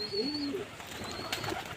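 A pigeon coos softly a few times, low and close, with brief pauses between the short calls.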